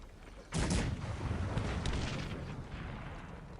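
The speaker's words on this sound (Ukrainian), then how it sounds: "От спробуємо трошки постріляти." Battle gunfire from dragoons in the strategy game Cossacks 3, a sudden loud burst of musket volleys that then rolls on as a dense, rumbling crackle before slowly thinning out.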